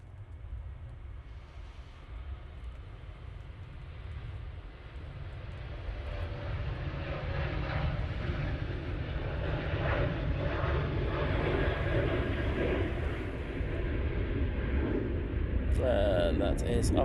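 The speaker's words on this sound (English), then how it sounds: "Ryanair 737 on the roll." A Ryanair Boeing 737 starts its takeoff roll at Manchester Airport, the jet engine roar building steadily from a moderate rumble to a loud sustained blast, while people talk over it.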